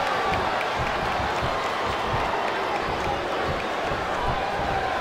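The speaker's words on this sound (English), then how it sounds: "This capacity crowd definitely has their favorite in this contest." Capacity crowd at a WWE SmackDown vs Raw 2008 match, a dense, steady roar of cheering and clapping filling the whole clip at constant loudness, with no distinct voices standing out.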